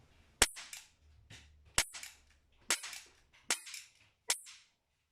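Five sharp gunshots ring out at steady intervals during target shooting, each a loud crack followed by a short decaying tail, with quiet pauses between and no talking.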